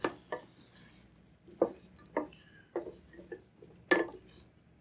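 Onion and vegetables are scraped and knocked around a stainless steel pan with no oil, producing sharp metallic clinks and scrapes in irregular bursts, close and fairly quiet.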